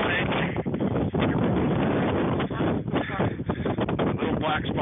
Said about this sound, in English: About 15 degrees with about a 20 mile an hour wind